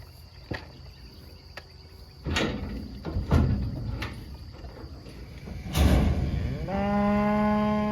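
A cow being loaded, with clanks and thumps of gates and hooves, then a long drawn-out moo near the end, over a background of chirping crickets.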